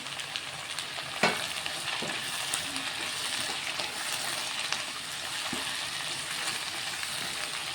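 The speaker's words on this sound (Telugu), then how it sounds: "దీనిలో నేను కట్ చేసుకున్న టమాటాలు వేసుకుంటాను" Cut tomatoes, three of them, frying in a pan for a potato and fenugreek curry, giving a steady close sizzle with a few stirring clinks and scrapes, no talking.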